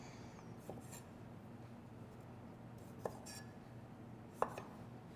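Knife chopping tomatoes for chutney, with a few sparse, sharp board knocks spaced seconds apart, close but quiet over a faint background hum.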